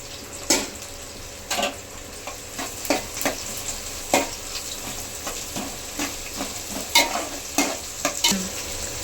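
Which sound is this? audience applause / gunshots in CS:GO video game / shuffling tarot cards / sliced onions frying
sliced onions frying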